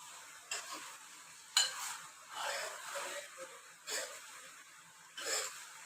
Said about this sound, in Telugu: ఫ్లేమ్ అయితే పెద్దగానే పెట్టి కలపాలి.